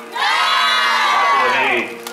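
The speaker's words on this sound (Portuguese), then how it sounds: "uma salva de palmas para ela, pessoal!" A crowd gathered in the rain at a birthday surprise cheers and shouts loudly for the birthday girl, a short, intense burst of many voices swelling and then dropping away after about two seconds.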